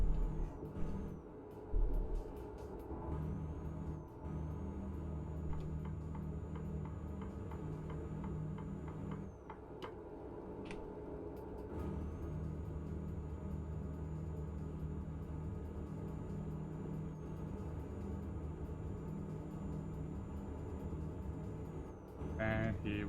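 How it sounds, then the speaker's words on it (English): Engine drone from a truck in a truck driving video game, a low steady rumble with a high whine, ticking sounds and a brief air-brake hiss near the start, playing on continuously. "I'm thinking I might need to turn the volume of the truck sounds down a little bit."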